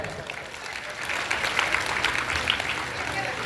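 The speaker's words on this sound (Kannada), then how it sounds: "ಮತ್ತೊಂದು ಚಪ್ಪಾಳೆ ಕೊಡೋಣ, ಜೋರು ಚಪ್ಪಾಳೆ" An audience applauds at a World Disabled Day cultural programme, a dense, steady wash of many hands clapping that swells slightly midway, fairly close and sustained with no break.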